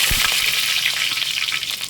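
Curry leaves fry in hot oil for tomato rice, giving a steady, loud close sizzle with a few brief spatters.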